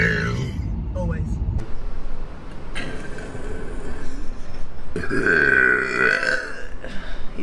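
A woman burps, including a drawn-in inhale burp, several guttural belches spread across the span with people talking in between.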